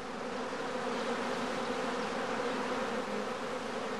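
A swarm of honey bees at the hive entrance fills the air with a dense, continuous droning buzz, close and steady throughout, with no voices.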